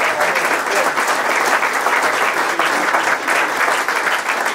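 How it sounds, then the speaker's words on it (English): Steady, thick clapping from an audience at a football club's end-of-season awards ceremony, loud and continuous throughout without a break. "Okay, round of applause for Oliver and Jordan."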